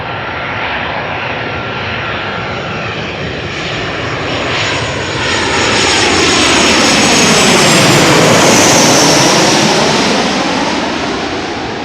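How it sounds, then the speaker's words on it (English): An SAS Boeing 737-700 jet arriving at Amsterdam Schiphol from Oslo, passing up close with a loud, broad engine roar that swells and sweeps in pitch as it goes by, steady throughout with no voices. "SAS 737-700 arriving from Oslo, flight 821"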